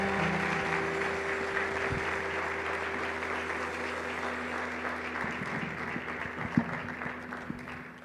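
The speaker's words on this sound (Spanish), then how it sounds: "Dale un fuerte aplauso al Rey." Sustained applause fills a church during a Sunday sermon, a steady crowd clapping throughout with a constant hum beneath it and a couple of brief knocks near the end.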